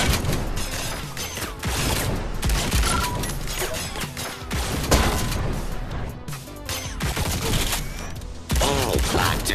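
Dense, chaotic combat from the Robo Recall game, with loud repeated shotgun-like blasts and crashing impacts stacked over continuous mechanical clatter and a faint voice.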